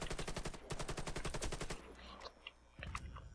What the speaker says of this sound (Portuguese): Não foi nem passo, foi tiro mesmo.